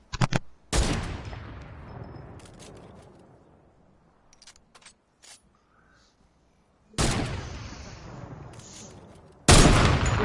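Video game gunfire from Snorkel Ops: loud bursts of rapid shots open and close the stretch, with scattered single pops and a quieter lull in between.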